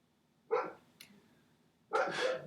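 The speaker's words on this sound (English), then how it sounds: "Sorry about the dog." A dog named Chewbacca barks twice, loud and close, with a short yelp in between, first a single sharp bark and then a longer rough one a second and a half later.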